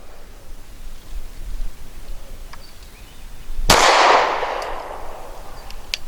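A Walther PPS M2 pistol fires a single sharp 115 grain shot at a steel target, a loud crack with a ringing metallic tail against steady outdoor background noise.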